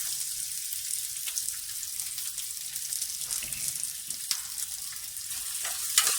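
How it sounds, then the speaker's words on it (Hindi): Onion, capsicum and tomato sautéing in a hot pan, a bright continuous sizzle with faint crackles and pops, close and steady with no talk. "इनको भी अच्छी तरह से सौते कर लेंगे"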